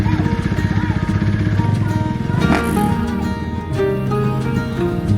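A motocross dirt bike revs at full throttle during a veteran MX race, a loud buzzing engine drone with rising and falling pitch, close and dominant, with voices faintly mixed in.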